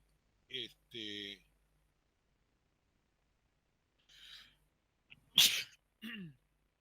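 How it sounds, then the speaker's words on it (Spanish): A single loud sneeze from a man during a Spanish-language news radio broadcast, sharp and close, with brief speech sounds before and after. "pese al estornudo"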